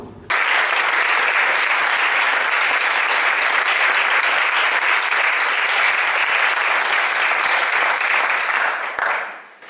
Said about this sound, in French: S'il vous plaît, des applaudissements cette fois-ci